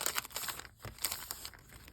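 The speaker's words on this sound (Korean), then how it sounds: "그 다음 같은 대문자인데 어두운 컬러 같이 뜯어볼게요" Dark-colored capital-letter alphabet stickers are torn from a sheet, giving quiet, close crinkling and peeling sounds in a few short bursts, with no one speaking.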